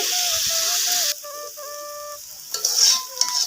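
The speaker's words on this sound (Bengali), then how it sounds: "ভাজা হওয়ার জন্য অপেক্ষা করি" Bitter gourd sizzles as it fries in a pan, with steady tonal notes over the hiss and a quieter lull partway through.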